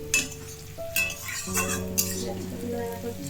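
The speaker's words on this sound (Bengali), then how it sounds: "এই যে এখানে যে পেঁয়াজ কালি ভাজা করছি" Onions fry in a pan in a home kitchen, a soft sizzle under sharp clinks of utensils against the pan, a few scraping stirs and a steady hum in the background.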